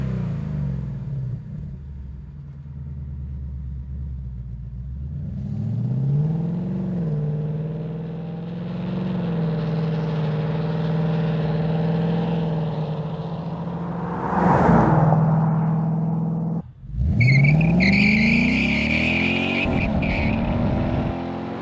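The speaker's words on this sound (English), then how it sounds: "First time down the track, we have the quietest system set up with the muffler module and block off plates both installed." A 2018-2020 Mustang GT with a MagnaFlow xMOD exhaust, muffler module and block-off plates installed, idles with a deep rumble, then revs and pulls down the track in a rising drone before a sharp lift-off and a renewed throttle burst.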